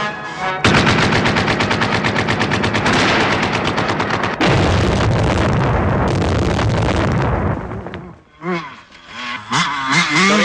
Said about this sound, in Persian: صدای شلیک پاسگاه ماست.